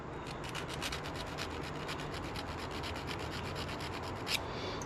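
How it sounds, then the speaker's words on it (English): Diamond file rubbing across the edge of a hardened steel piston ring from a DS90 two-stroke engine, a steady close scraping rasp with rhythmic repeated strokes throughout. "These are called diamond files. They are made for smoothing the edges on hardened steel."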